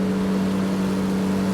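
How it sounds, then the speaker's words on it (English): Engine of a construction excavator humming steadily at a strong low drone for under two seconds, with no talk. "Excavator."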